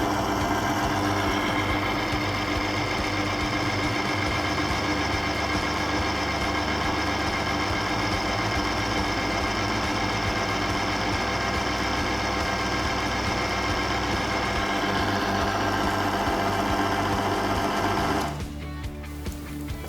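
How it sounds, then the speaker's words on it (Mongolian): A car engine runs without oil after being treated with Fenom engine restorer, making a steady, even mechanical whir with a tight, fast pulse that holds nearly the whole time before cutting off near the end. "хөдөлгүүр ямар ч тосгүй 3 тухайтай ажиллахад хэрхэн илэгдэл орсон байгааг одоо бүгдээрээ харцгаая"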